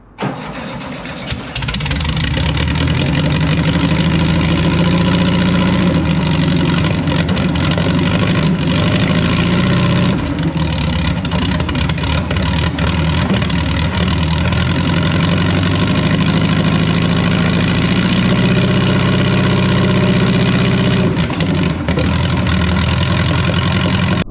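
VW dune buggy engine cranking and catching right after its carburetor bowl is refilled with gas, then running on in a loud, steady, slightly uneven idle that carries close up without a break for over twenty seconds.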